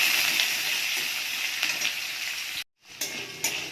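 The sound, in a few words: potatoes, carrots and vegetables frying in a pan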